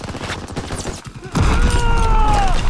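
Gunfire in the video game Call of Duty: WWII, a loud dense burst of shots and booms following a quieter stretch of scattered shots and mechanical noise, with a voice briefly audible.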